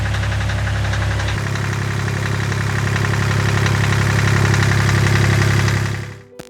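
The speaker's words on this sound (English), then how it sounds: "The plan now is to run the engine for about 30 minutes to warm it up" A Volvo Penta MD2030 marine diesel engine idles steadily as it warms up, a loud, close, continuous knocking rumble with a small shift in tone early on, then the engine cuts off near the end.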